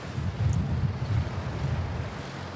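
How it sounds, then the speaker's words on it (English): A Philippine Airlines jet on the Manila to Tacloban route takes off from Manila Airport, its engines a steady low roar heard from a distance, mixed with wind buffeting the microphone. "Manila Tacloban flight, Carol Philippine Airlines. Oh, yes. That's a smooth takeoff there."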